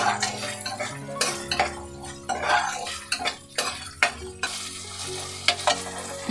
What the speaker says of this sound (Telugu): కొంచెం కలుపుతాము.